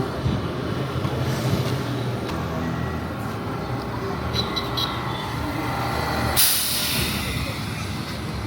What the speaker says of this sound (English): that's an electric bus